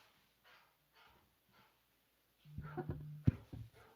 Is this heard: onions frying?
no